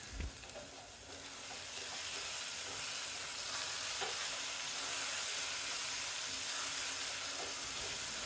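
Prawn masala with salt sautéing in a pan, a continuous close crackling sizzle with occasional stirring scrapes, steady and moderately quiet, with no talking.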